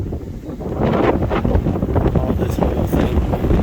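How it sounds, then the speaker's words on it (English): Strong wind blowing outdoors in Maine, near a lake, roaring and buffeting against the microphone in steady gusts that swell louder after the first second, with a brief, faint voice half buried beneath. "It's really windy."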